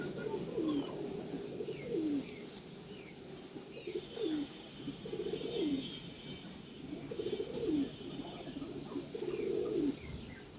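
Pakistani pigeons in a loft coo repeatedly in a steady rolling rhythm, close and clear, with faint chirps above.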